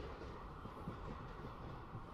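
A Long Island Rail Road train at Mastic-Shirley passes through an interlocking, a steady low rumble of wheels on rails with faint rhythmic clicks, heard at a moderate distance with no talking.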